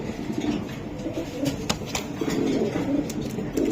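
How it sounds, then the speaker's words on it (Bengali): Foreign racer pigeons coo in low, throaty, repeated rolls close by, with a few soft wing or movement noises and faint background murmur. "ভাই সে বিদেশি কবুতর ভাই"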